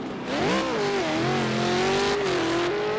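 A race car's engine during a cool-down lap after a win at a round 3 race, droning steadily with a rising then gently sliding pitch as it runs close along the wall, loud and continuous with no talk.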